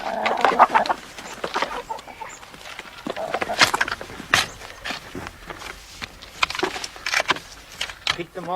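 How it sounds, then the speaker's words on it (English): Chickens cluck and squawk while being fed on a rural farm, with scattered bursts of calls mixed with footsteps and handling noises close by. "It's young Declan's job to feed the chickens"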